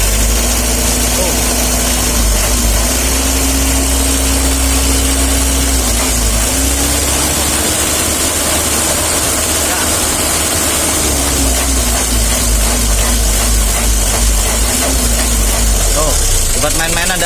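A Mitsubishi L300 engine idles steadily and loudly throughout, a continuous low rumble with slight vibration and faint background noise.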